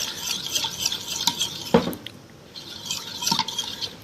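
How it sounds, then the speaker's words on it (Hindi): Pasta salad being mixed with yogurt, cumin powder and chutney in a bowl, soft wet stirring and squelching strokes in an irregular rhythm, close and unaccompanied by talk. "अच्छी तरह से इसे मिक्स कर लेंगे"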